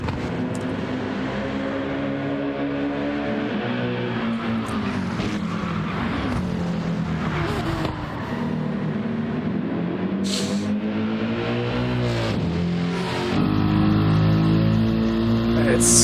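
GT3 Cup race cars, including a Porsche 911, climb uphill in a sim racing game, engines droning steadily and rising in pitch through gear changes, with a louder engine surge near the end; a commentator talks over the racing.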